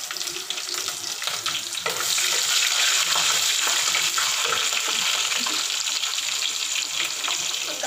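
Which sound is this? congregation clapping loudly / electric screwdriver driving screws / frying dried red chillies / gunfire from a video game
frying dried red chillies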